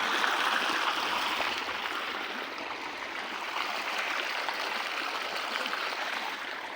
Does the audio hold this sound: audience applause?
no